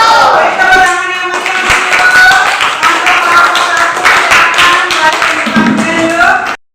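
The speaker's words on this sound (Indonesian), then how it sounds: "Beri tepuk tangan yang" Classroom applause from students during a lesson, a steady burst of close, dense hand clapping lasting several seconds before stopping abruptly, with some voices mixed in.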